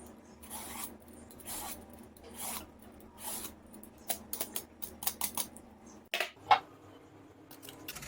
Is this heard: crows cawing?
no